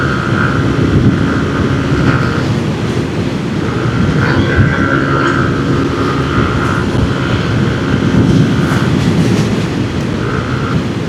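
A Yamaha NMAX V3 scooter runs at full throttle through a tunnel near Taal Lake, its engine a loud, steady drone under heavy wind rush with a sustained whine that drops out and returns.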